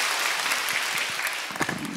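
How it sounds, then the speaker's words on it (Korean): A church congregation at a Wednesday worship service claps, a steady crowd applause at moderate volume with some sharper individual claps standing out near the end. "박수를 크게 치세요."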